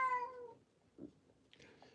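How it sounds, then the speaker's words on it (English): A cat gives a clear, close meow at the start, followed by a couple of softer, brief sounds in an otherwise quiet room. "she's meowing and looking for a corner"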